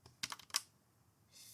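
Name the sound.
typing on a computer keyboard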